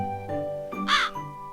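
A crow caws once in a cartoon-style sound effect for a children's story, a harsh, clear call standing alone over a soft background tone.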